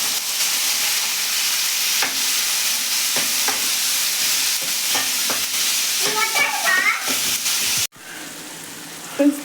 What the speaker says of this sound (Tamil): தக்காளி நல்லா வதங்கிட்டு இருக்கு